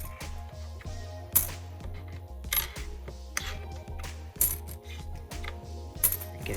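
British pre-decimal coins clink and jingle as they are shuffled around in a box, with irregular metallic clatters and no talking.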